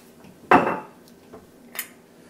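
A single heavy thud as cabbage is pounded down for sauerkraut, loud and close, followed by a couple of faint small knocks in an otherwise quiet kitchen.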